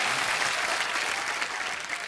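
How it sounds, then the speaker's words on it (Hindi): Audience applause at a comedy stage show, a loud sustained wash of clapping from a crowd, steady throughout without a break. "जोरदार तालियां आ जाए यार"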